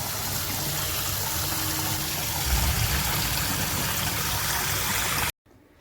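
Fish being washed in running water, a loud continuous gushing and splashing stream close by that cuts off abruptly near the end.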